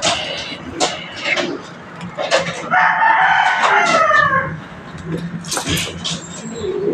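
A rooster gives one clear, drawn-out crow at close range, surrounded by scattered clucks and other fowl calls, while someone speaks intermittently nearby.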